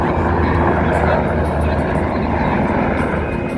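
A Sikorsky MH-60R Seahawk helicopter in a flying display at an air show, its broad rotor and turbine roar steady and fairly loud, with an announcer talking over it.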